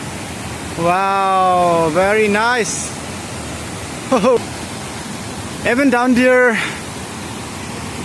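Dwijiri Waterfall roars as a constant dense rushing wash throughout, with someone talking over it in several bursts.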